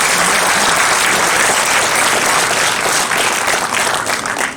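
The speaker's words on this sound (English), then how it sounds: "A big round of applause for my brilliant faculty members." Loud, dense applause from a convocation audience honoring faculty members, a continuous roar of many hands clapping that holds steady and eases slightly near the end.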